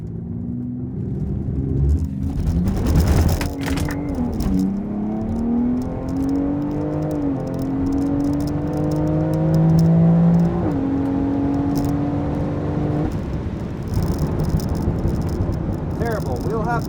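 A BMW X3 M Competition SUV launches down a drag strip, its engine droning loud and rising in pitch through the gears, with a brief roughness near the start and a steady whirring rumble.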